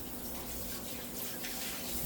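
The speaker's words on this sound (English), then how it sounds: "Let me rinse my hands." Water runs steadily from a tap as hands are rinsed after mixing veggie patty ingredients, a soft continuous splash with no talk.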